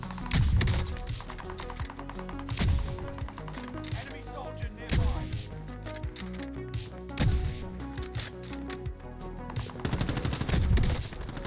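Sniper rifle fire from an AX50 in a first-person shooter game, sharp loud shots recurring every couple of seconds over busy game sound and music.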